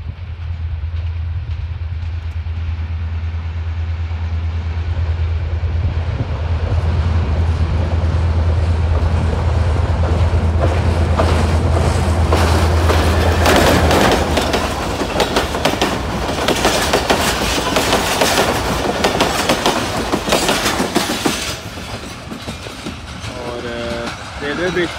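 Locomotive GMC 154901 pulls a train through Mandi Bahauddin railway station in Pakistan, a low engine drone giving way to loud, rising clickety-clack of wheels and wagons passing close, with brief wheel squeals and people talking over it.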